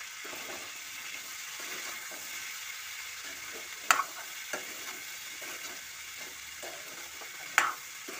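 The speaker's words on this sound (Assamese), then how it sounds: "তাৰপিছত এয়া দিলোঁ আদা" Ginger frying in a pan gives a steady, even sizzle throughout, broken twice by sharp metallic clinks of a utensil against the pan.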